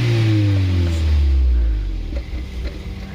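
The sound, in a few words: car engine revving, exhaust note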